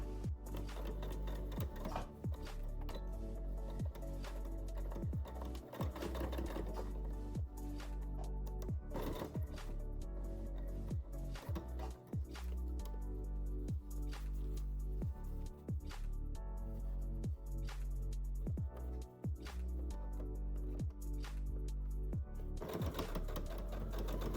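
Sewing machine stitching along the long edges of a tote bag strap at a 3 to 3.5 mm stitch length, a steady rapid mechanical whirr in long runs broken by brief pauses, close and alone.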